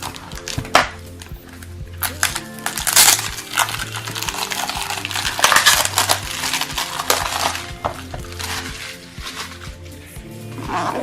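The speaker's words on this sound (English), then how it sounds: "Let's just rip the plastic off." Plastic wrapping being torn and crinkled off a Starbucks journal, a loud, close run of irregular crackling and rustling with sharp ripping bursts throughout.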